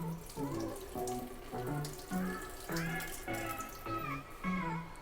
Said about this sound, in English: rinse thoroughly. Get rid of all the dirt that's mixed together with your glutinous rice.